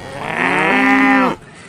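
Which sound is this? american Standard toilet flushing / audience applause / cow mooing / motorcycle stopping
cow mooing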